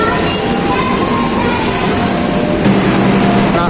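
Passenger train Wijaya Kusuma, bound for Cilacap, arriving at Jember station, a loud continuous rumble and rail noise with a brief screeching tone partway through, heard close up.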